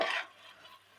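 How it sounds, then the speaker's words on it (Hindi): Onions are stirred into a kebab mixture for an egg kebab recipe: a brief, soft scraping stir that fades to near quiet and ends with a small knock. "ये इसमें प्याज जा रहा है। इसको मिक्स कर लेंगे"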